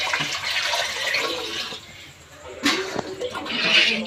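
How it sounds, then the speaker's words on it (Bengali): Water is poured into a pot of khichuri (rice and lentils with turmeric), a steady close splashing and gurgling stream with a brief clatter near the end; no speech over it. "এবার আমি জল দিয়ে দেবো জল দিয়ে দিলাম"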